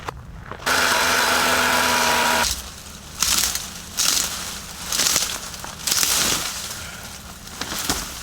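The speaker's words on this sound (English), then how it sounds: "That's why I never felt the need to buy a chainsaw, but I'm liking how this thing cuts and how it just feels." A 12-inch DeWalt chainsaw cutting trees on a trail runs with a steady whine, then bites through wood in several rough, grinding bursts with short pauses between.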